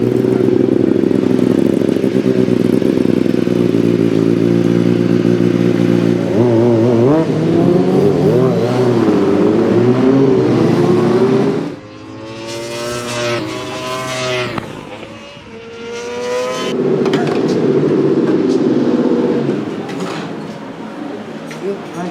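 Race car engines during the FP2 practice session, loud and close throughout: a steady, droning engine note, then a car passing with rising and falling revs before the drone returns.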